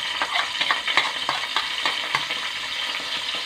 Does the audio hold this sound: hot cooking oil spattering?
yes